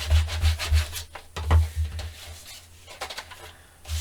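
A tool burnishes paper down onto a mini album page in close, scratchy rubbing strokes, a series of short uneven passes with brief pauses between, and no talk.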